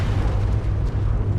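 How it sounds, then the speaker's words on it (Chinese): An animated explosion bursts with a deep, sustained low rumble and roar that fills the whole moment, loud and heavy with no voices over it. "突然一声爆炸响起，"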